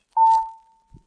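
A single bright electronic chime rings once for a page turn in a 1977 Road Runner book-and-audio read-along. It is a clean, loud tone that decays slowly to silence.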